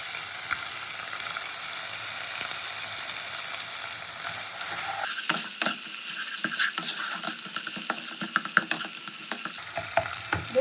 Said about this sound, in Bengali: তো পেঁয়াজ বাটাটা কষাতে কষাতে আমি এরকম দিয়ে দেবো আদা রসুন বাটা